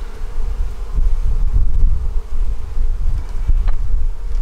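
Honey bees humming on hive frames during a Demaree split, a continuous loud low buzz with soft rustling and occasional wind buffeting at the microphone.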